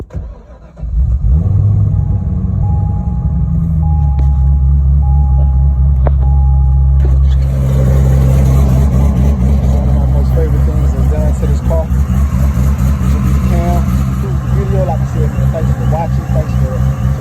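A Corvette cranks briefly, then its engine catches and settles into a loud, close, steady running rumble that continues for well over ten seconds, with a voice talking over it partway through.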